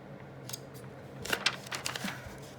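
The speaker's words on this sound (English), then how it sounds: "I think I can just finish that off with the scissors there." Scissors snip through craft material in a few crisp, close cuts, two quick snips followed by a short burst of smaller clicks, over a quiet room background without talk.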